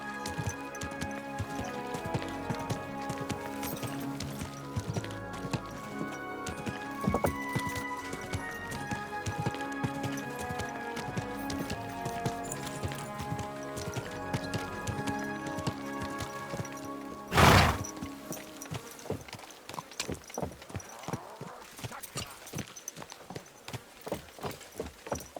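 Steady clip-clopping horse hooves plod along against a busy musical background in Kingdom Come: Deliverance 2, followed by a sharp burst and then quicker, distinct hoofbeats.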